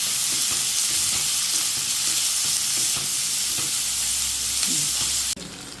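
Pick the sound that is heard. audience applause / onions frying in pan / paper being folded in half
onions frying in pan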